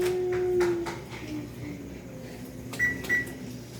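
A kitchen oven is set to preheat to 350 degrees, giving a sustained electronic beep early on, then two short beeps a few seconds later over a low, steady hum.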